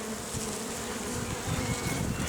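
Honey bees buzz steadily at an open beehive in a forest apiary during a first colony inspection, a dense, continuous close-up drone with no talking.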